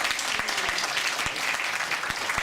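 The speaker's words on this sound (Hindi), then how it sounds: "So I'd like you to put your hands together for Sanjay ji." An audience claps steadily for a guest at a community remembrance gathering, a dense, continuous wash of applause with scattered sharper individual claps throughout.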